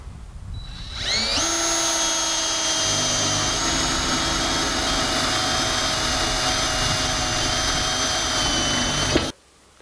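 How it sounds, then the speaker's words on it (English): A power drill with a 1/4 inch bit bores through a steel barn door track, whining loud and steady for about eight seconds before stopping abruptly, with no talk. "we can use a 1/4 inch drill bit and it goes right through the steel very easily."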